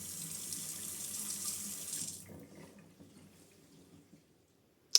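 Water runs steadily from a Quooker PRO 3 Flex boiling-water faucet into a sink for about two seconds, then shuts off, leaving quiet room tone and a sharp click at the end.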